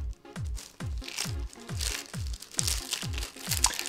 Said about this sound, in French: je vais déballer mon cadeau d'anniversaire, le 35 mm de chez Fujifilm